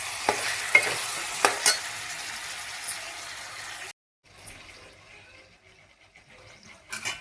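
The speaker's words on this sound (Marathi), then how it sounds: "आपण त्याच्यामध्ये ही मोरी आता घालूया आणि व्यवस्थित परतून घेऊया." Mori fish sautés in onion tomato masala, soft sizzling with several sharp stirring clanks early on, then a short silence and quieter frying with a final scrape.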